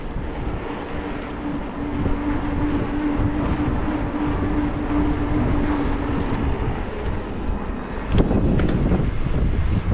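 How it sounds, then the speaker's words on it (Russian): Strong wind buffets on a Crimean mountain trail near Yalta in February, a loud, continuous roaring rumble with a sharper gust burst near the end. "Да, ветрено, однако."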